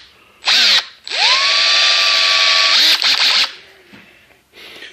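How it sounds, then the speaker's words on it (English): A 3/8-inch 18-volt impact driver whirs in loud, close bursts: a short burst, then a longer sustained run that winds down, followed by a brief blip and fainter handling noise, with no talking. "I got my 3/8 impact, 18 volt."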